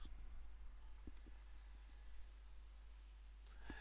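Faint, sparse computer mouse clicks, a few short isolated taps over a low steady hum.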